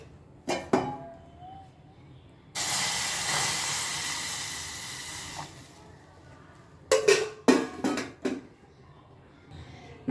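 Milk poured into a hot pan of roasted tea powder sets off a sudden loud, sustained sizzling hiss lasting a few seconds, set between scattered clinks and clatter of the pan and utensils.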